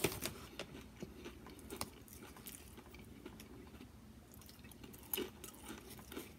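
Crunchy Doritos Blaze tortilla chips being chewed close to the mic, a quiet series of irregular crisp crunches and soft mouth sounds with no talking.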